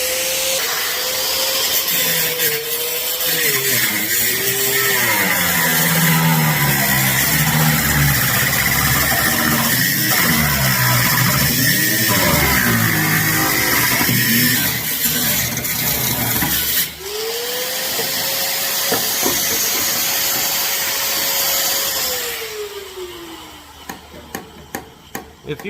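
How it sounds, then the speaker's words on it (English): A grinder whines loud and close as it cuts into a 1959 Cadillac fender skirt, its pitch sagging and wavering under load, pausing briefly, then spinning up steadily again before stopping with a few clicks. "I'm now going to take a grinder"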